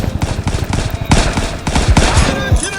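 Rapid automatic gunfire in a video game, loud and close, with bursts of repeated shots in fast rhythm and some overlapping reports.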